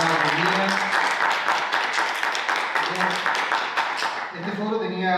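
An audience at a political forum applauds three guests, steady clapping carrying through the whole stretch, with a voice speaking over it at moments.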